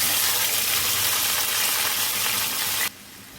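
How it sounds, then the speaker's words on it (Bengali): Tomatoes and green chilies frying in a pot over a gas flame for handi chicken, a steady bright sizzle close by that cuts off abruptly near the end, leaving a faint hiss. "এগুলো সব ভালো করে এটার মধ্যে আমাকে ভেজে নিয়ে মশলা তৈরি করে নিতে হবে।"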